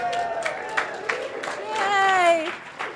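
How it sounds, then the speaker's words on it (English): Conference keynote audience cheering and applauding, scattered claps and crowd noise under a rising voice, with a whooping cheer swelling near the end. "stand up and cheer if you love maps"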